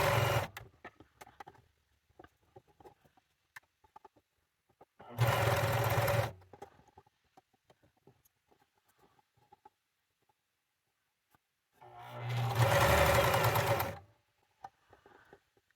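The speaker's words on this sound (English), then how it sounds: "I'm going to continue just to work on sewing these right sides together" A sewing machine stitches the right sides of a fabric headband together in two close, steady buzzing runs of about one and two seconds, separated by quiet with light handling clicks.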